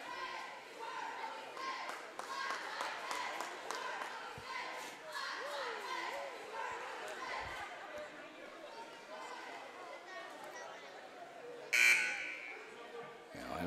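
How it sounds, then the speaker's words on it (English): A short, loud basketball warning buzzer blares near the end over a busy gym at an 8th grade boys' game, with crowd chatter and squeaking shoes. "Warning buzzers sound"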